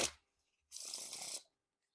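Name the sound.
riffle shuffling playing cards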